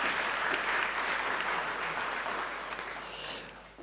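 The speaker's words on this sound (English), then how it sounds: "Let's give a round of applause for Blake." Sustained applause from a conference audience for a speaker at an event on artificial intelligence in education, dense even clapping that slowly tapers toward the end.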